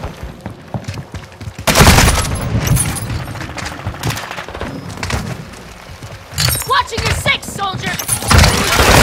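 Call of Duty Modern Warfare II firefight: bursts of rapid automatic gunfire and heavy thuds in loud waves, with quieter stretches between, and voices shouting over the combat.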